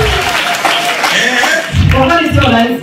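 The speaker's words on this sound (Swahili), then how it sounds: "Hebu piga makofi kwa Mungu." A congregation at a testimony and prayer service claps together in a sustained burst of applause, with a voice speaking over the clapping.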